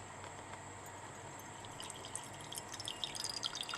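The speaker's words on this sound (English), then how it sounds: "So let's now drain off our bottom DCM layer." Liquid dichloromethane draining from a laboratory separatory funnel, a faint, quiet trickle with small drips that grow more frequent toward the end.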